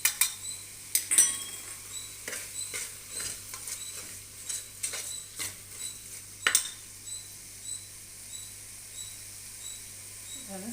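Spoon stirring tomatoes in a pan for Kannada-style tomato bath, with intermittent scraping clinks of utensil against metal over a soft, steady sizzle, close and moderately quiet.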